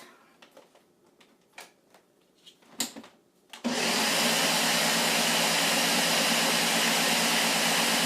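Pumpkin pie batter for an impossible pumpkin pie being mixed: a few soft knocks and clatters, then an electric mixer starts abruptly and runs at a loud, steady, close whir.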